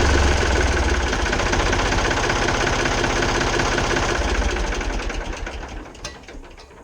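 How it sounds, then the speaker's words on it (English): A Ford 3000 tractor diesel engine runs with a rapid, rough knocking chug close by, loud at first and then gradually fading over the last couple of seconds; no one talks. "we're going to crank the tractor up"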